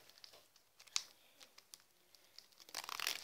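Paper and plastic wrapping of a New Year gift package being unwrapped, quiet crinkling and tearing rustles in short bursts, growing denser and louder at the end.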